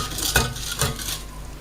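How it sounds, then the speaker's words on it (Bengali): Plastic cleaner mixture being stirred in a container, a faint wet swishing with two brief louder scrapes about half a second apart, no voices. "ভালো করে ভালো করে নেড়ে একটা মিক্স করে নেবেন"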